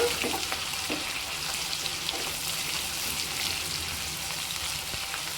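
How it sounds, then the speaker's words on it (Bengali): Chopped onions for chicken biryani fry toward brown in a pan, producing a soft, even sizzle like light rain that holds steady throughout, fairly quiet and close. "এবার আমি পেঁয়াজটা একটু বাদামি বাদামি করে ভেজে নেব"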